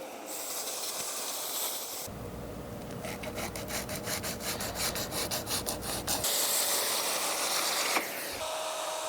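Sanding paper fluff out of a routed groove in a wooden workpiece: rapid back-and-forth scratchy rubbing strokes, close and fairly loud, running steadily for several seconds between quieter stretches, with no talking.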